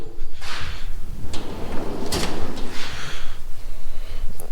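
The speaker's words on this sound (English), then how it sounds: "let's go into the power drawer" A Snap-on tool chest power drawer slides open with a long grinding, rumbling roll and a few sharp knocks and clacks, close and loud over steady background noise.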